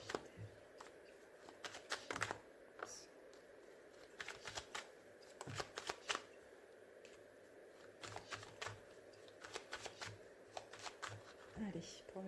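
A deck of tarot cards being cut and handled, with soft irregular bursts of card riffling and slapping close by, recurring in clusters while a quiet voice talks underneath.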